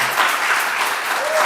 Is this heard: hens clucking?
no